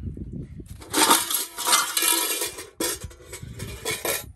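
A metal cooking pot with its lid and a serving spoon clank and clatter outdoors in a desert village, sharp clinks and rattles in irregular bursts, close and fairly loud.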